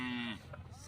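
A buffalo lets out a single short moo at a village buffalo fight, a low tonal call under a second long, close and clear, trailing into faint background noise.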